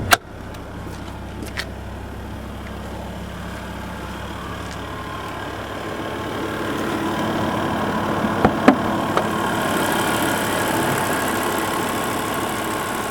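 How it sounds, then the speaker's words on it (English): A 2006 BMW M5's 5-liter 40-valve V10 idles steadily at a moderate level, with a few light clicks and knocks, and the hum grows slightly fuller toward the end. "So with the car running here, let's just get a quick look at that V10 motor."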